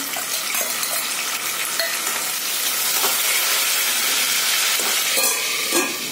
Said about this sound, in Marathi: टमाटर थोडं तडतड उडतं